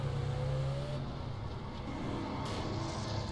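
Car engine revving in GTA San Andreas, a steady droning motor with a whine that rises briefly early on, continuous and fairly loud with no voices.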